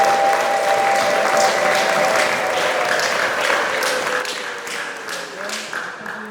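A church congregation applauding in a steady, dense wash of many hands that fades slightly toward the end, with voices murmuring faintly underneath.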